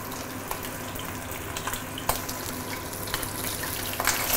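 Kampung fish sizzles in hot oil in a pan just after being flipped, a steady crackling fry with scattered sharp pops and spatters throughout.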